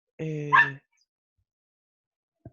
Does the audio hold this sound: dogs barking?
yes